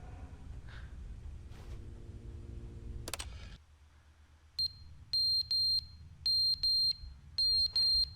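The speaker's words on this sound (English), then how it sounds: "That smoke detector." A smoke detector in The Stanley Parable: Ultra Deluxe chirps in repeated sharp, high electronic beeps arriving in pairs at a steady rhythm, loud and alone after a quieter stretch of game ambience.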